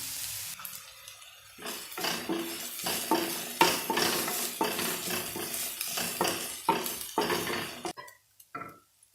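Chopped ginger and garlic are stirred into sautéing onions in a cooking pan, with repeated rhythmic scrapes and clinks of a utensil over a soft sizzle, close up and without talk.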